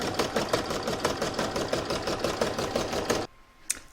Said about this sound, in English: I'm now going to load this into my machine and stitch round number 1, which will give me my placement line